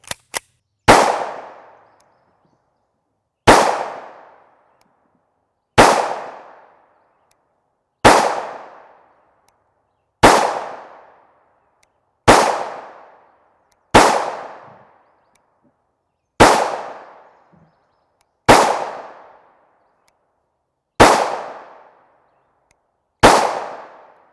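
A 5.7x28mm gun fires 40-grain Hornady Critical Defense FTX rounds: ten loud, sharp shots at a steady pace of roughly one every two seconds, each ringing out briefly, with no talking.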